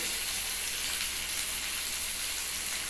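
Cumin seeds frying in hot mustard oil give a steady, close sizzle with a hissing crackle that runs evenly throughout, with no talking.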